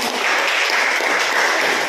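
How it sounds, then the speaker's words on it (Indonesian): Classroom of vocational high school students applauding, a dense, loud, steady burst of many hands clapping together with no voices over it. "berikan tepuk tangan hari ini."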